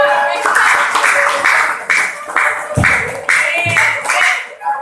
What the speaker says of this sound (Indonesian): Kita dengarkan pula tepuk tangan untuk kelompok 2